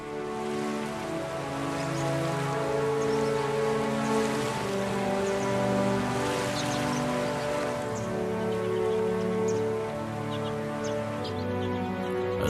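Steady rain from a mountain thunderstorm pours down continuously, a dense hiss of drops hitting surfaces, loud and close throughout with no voices.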